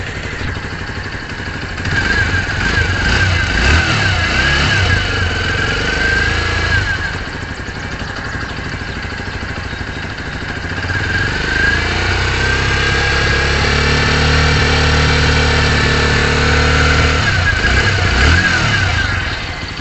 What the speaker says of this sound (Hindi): और मैं आपको इंजन की साउंड सुनाता हूँ।